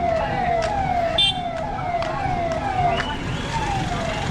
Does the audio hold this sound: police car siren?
yes